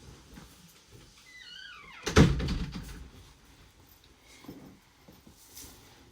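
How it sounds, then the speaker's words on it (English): A door swings shut with a creaking squeal followed by a single solid thunk, near and loud, then quiet room tone. "I'm going to close that door."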